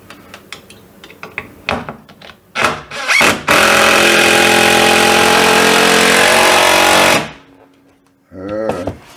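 A power driver sinks a screw into a wall while a dip in the wall is being fixed, giving one loud, sustained whirring run of several seconds. Short handling knocks come before it and quieter movement follows.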